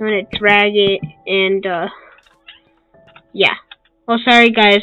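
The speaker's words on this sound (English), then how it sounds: "if you heard a meow, that was my cat." A person talks, and during a pause a cat gives a short meow off to the side before the talking resumes.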